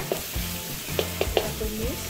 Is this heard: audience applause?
no